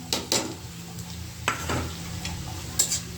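Crushed dried fish frying in oil with onion and garlic for a bean and shutki dish, a low steady sizzle broken by a few sharp spatula scrapes and clanks against the pan.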